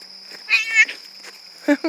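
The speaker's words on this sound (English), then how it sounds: "Cat got under my feet." A house cat meows underfoot in a garden: one drawn-out meow followed by a shorter second call, close by over a faint steady hiss.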